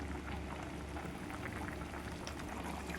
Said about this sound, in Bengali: মাছের ঝোলটা আমার উতলিয়ে গেছে